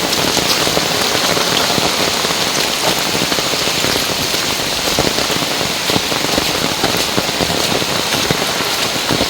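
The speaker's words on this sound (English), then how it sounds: "Crazy rain." Heavy rain pours steadily on a farm, a loud, dense and unbroken hiss of drops drumming on surfaces close by, with no voices.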